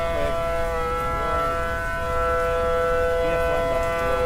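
A loud, steady tornado warning siren wails continuously from the Roblox Twisted storm-chasing game, with a sustained tone and no talking over it.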